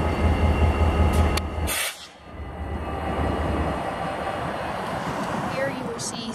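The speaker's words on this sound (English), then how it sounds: "Here you will see CSX Q029 northbound intermodal. This train is a high priority intermodal heading" A CSX Q029 northbound high-priority intermodal freight train rumbles past with low rolling rail noise and a brief sharp clank early on, while a person talks over the passing train.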